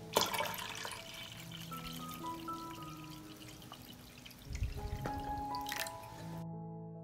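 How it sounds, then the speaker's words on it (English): Water pours into a cooking pot holding glass jars set on a kitchen towel, with trickles, drips and faint clinks of glass over several seconds, close and fairly quiet, ending in a brief louder splash. "I pour water into the pot up to the height of the lid."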